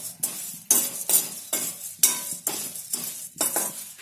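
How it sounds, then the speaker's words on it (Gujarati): Puffed rice (mamra) dry roasting in a pan without oil, stirred in steady strokes that give rhythmic scraping bursts about every half second, with light metallic clinks of the spatula against the pan. "હવે આપણે એમાં મમરા શેકી લેશું, એમાં તેલ નથી નાખવાનું"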